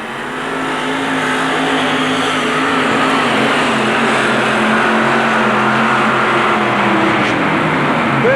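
The Doe Runner 4WD pulling truck roars at full throttle during a truck pull inside the New Orleans Superdome in 1991, a loud, sustained engine howl that builds slightly and holds steady throughout.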